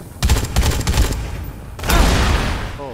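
Rapid bursts of gunfire in the Dead Rising 3 video game, dense and loud, in two clusters of overlapping shots with a brief lull between them.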